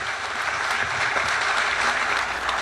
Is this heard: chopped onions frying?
no